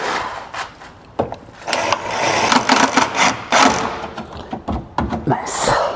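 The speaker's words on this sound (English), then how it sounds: "I'm going to go ahead and screw these to the bottom of the bumper." A power driver whirs in short bursts, driving screws into a C8 Corvette's diffuser under the rear bumper, with clicks and handling noises between the runs.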